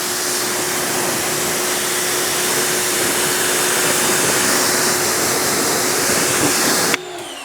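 A foam cannon blasts snow foam onto an ATV outdoors on a cool, overcast morning, a loud, steady, close hiss and rush that holds unbroken for about seven seconds and then cuts off abruptly.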